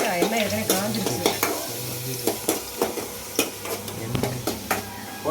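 Onions hiss in hot oil as biryani is started, under repeated metallic scrapes and clanks of a spoon against the pot at an uneven rhythm, with a voice briefly heard at the start.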